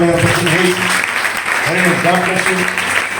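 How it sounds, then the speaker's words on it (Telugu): A crowd claps continuously in a dense, steady patter while a voice speaks and sings over it. "సో యవన బిడ్డలు అందరికీ చప్పట్లు కూడా దేవుని"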